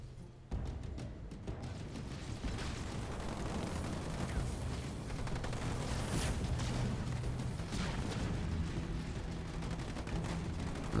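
Sniper fire and battle noise from a Halo Wars 2 match, dense crackling shots and blasts layered over a continuous loud wash of game sound, with no talk.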